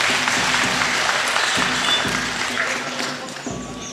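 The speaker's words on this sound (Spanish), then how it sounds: "Fuertes aplausos para él." Crowd applause at an outdoor march for reconciliation and peace in San Mateo del Mar, Oaxaca, a dense, steady clapping that holds loud for four seconds, with a low rumble and murmur beneath it.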